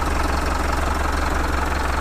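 A 4-litre, 142 hp common-rail diesel engine in a 2019 Hino Dutro 5-ton dump truck runs steadily at close range, giving a continuous loud rumble with a knocking diesel idle and no speech.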